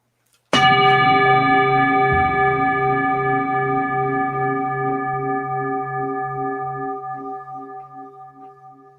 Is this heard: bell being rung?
yes